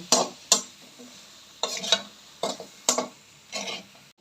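A spoon or spatula scraping and stirring turmeric, chili powder and salt in a frying pan, with a series of separate dry scraping strokes, some quick pairs and some single, close and fairly quiet, with no voices.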